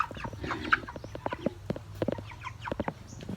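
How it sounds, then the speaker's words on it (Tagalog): Several chickens cluck and chatter close by in a busy, irregular stream of short calls, with occasional louder squawks over a low background hum. "Yan ang mga manok guys oh"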